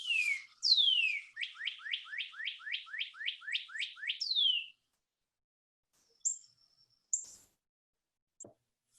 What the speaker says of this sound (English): once you've attracted the birds, if you can't see them, you can enjoy their sound